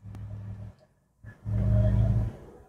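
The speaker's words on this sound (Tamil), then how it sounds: "நான் இப்போது ரிவேர்ஸ் மூலயமா வண்டியை மேலே ஏற்றுறேன்." A manual car reversing up an incline idles with a low engine hum, drops briefly quiet, then rumbles louder under throttle for about a second before easing off, close and steady.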